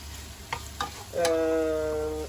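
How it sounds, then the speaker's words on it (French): Vegetables fry in olive oil in a pan. A couple of brief scrapes come first, then a loud, steady close-up sizzle takes over for the rest. "L'idée est de cuire les légumes avec notre huile d'olive."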